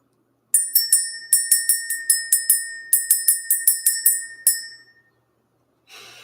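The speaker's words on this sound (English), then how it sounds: "Let's ring the bell." A hand bell rung to clear energy at the start of a spiritual session, struck in quick bright clusters of about fifteen strikes, close and alone, then left to ring out and fade into silence.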